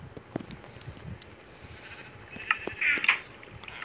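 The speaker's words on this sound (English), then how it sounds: "It's just sheeps" Sheep in Minecraft Pocket Edition let out a couple of short bleats near the end, faint and a little distant, over a steady low background hum.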